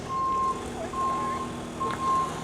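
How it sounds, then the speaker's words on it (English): A truck reverses nearby, its backup alarm giving three evenly spaced, piercing beeps over a low rumble of engine and street noise. "I think it was the truck that we were hearing."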